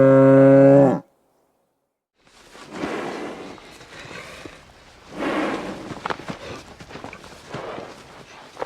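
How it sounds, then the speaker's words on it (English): An ox lows in a few drawn-out, throaty moos separated by short gaps, close and clear, following a brief tonal sound at the start and a moment of silence. "Ox, ox."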